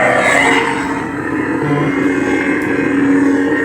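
Speeder bike version of a Corran Horn lightsaber sound font, a loud continuous engine-like roar and whine that hums steadily, close and dominant throughout.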